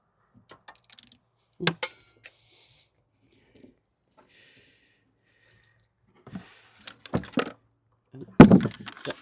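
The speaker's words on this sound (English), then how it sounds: "Don't do what I do and drop all your screws in the boot." Metal screws from a Mini F56 dropping into the car's boot, a few sharp clinks and clatters at irregular moments with quiet gaps between, close and fairly loud.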